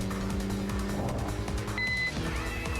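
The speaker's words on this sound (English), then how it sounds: "Okay, now hear the car a little bit more." Continuous engine roar of a racing car in the video game TXR 2025, with shifting revs, loud and close, and a brief high electronic tone near the end.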